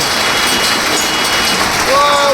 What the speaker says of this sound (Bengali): আমাদের বেলকুচিতে দেখেন শিলা বৃষ্টি কিরকম হচ্ছে।